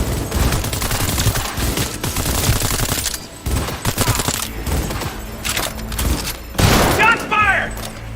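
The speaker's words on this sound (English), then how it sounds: "Shots fired!" Gunfire bursts in the Cyberpunk 2077 video game, dense rapid shots layered with music and game voices, loud and sustained throughout with a brief lull near the middle.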